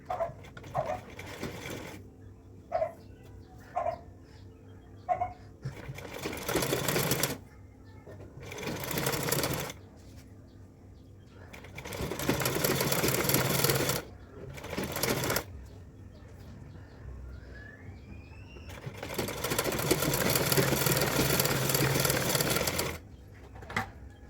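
A sewing machine stitches lining fabric onto main fabric in several bursts of rapid mechanical whirring, separated by pauses in which someone talks.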